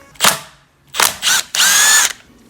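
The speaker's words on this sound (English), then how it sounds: "So let's get this right here. 1/2 inch bolt, the old Milwaukee." An old Milwaukee power tool drives a 1/2 inch bolt on a Challenger's four-speed transmission cover, heard as three short loud whirring bursts in close succession, the last one longer and steadier.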